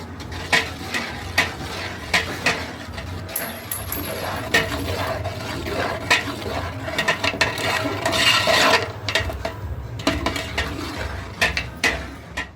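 A spoon stirs boiled tomato and green chilli puree for rajma in a pot, giving repeated close clinks and scrapes against the metal over a soft background, steady throughout.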